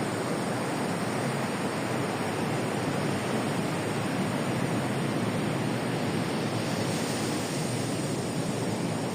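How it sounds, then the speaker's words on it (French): Ocean surf breaks on a coastline where sea meets mountains, a dense, steady wash of waves with no pauses, close and fairly loud and unbroken throughout. "Ah, des vagues"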